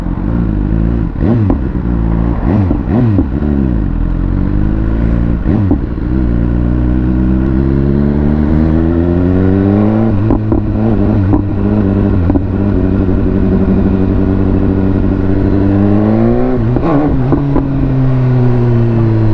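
A BMW S1000R roadster motorcycle engine on a road test, loud and close, rising and falling through repeated gear changes and revs with mechanical clatter between pulls, no talking.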